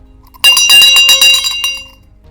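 A bell rings for the International Day of Peace, giving a rapid run of bright, clinking strikes that starts suddenly and then fades into a lingering ring, loud and close, with no voices.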